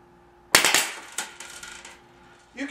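Fully automatic IZH Drozd CO2-powered BB pistol set to 600 rounds per minute fires a quick burst of sharp snapping shots, close and loud, followed by a couple of trailing pops.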